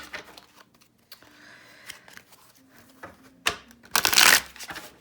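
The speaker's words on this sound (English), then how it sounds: "let's get some shuffling in here and get into it" Tarot cards being shuffled by hand, several short papery riffles and rustles close up, with a loud burst of shuffling near the end.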